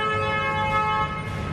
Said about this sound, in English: now they're honking all of a sudden on our last day